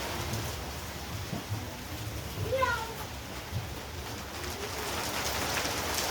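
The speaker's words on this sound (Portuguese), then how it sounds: "A chuva, mãe." Steady rain hisses continuously across the whole stretch, an even wash of falling drops with faint voices in the background.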